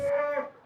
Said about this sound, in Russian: Вон корова мучит.